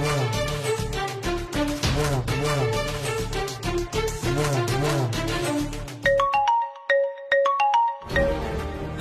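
A mobile phone's ringtone for an incoming call plays loudly and close: a busy, rhythmic musical tune that switches near the end to a sparse, clean chiming melody, with no talking.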